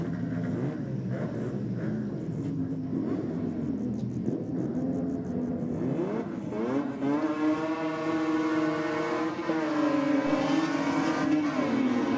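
A 1JZ-powered Toyota Cressida and a 13B turbo Mazda RX3 drag racing, with a loud engine roar that swells into rising, revving tones as the cars accelerate hard down the strip.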